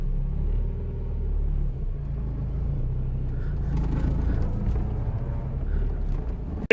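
A Mazda Miata engine idles steadily just after a jump start, a low continuous rumble close by with no talking.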